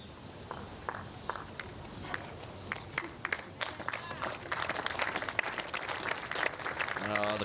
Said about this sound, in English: Oh, the crowd love it. They're coming to life now.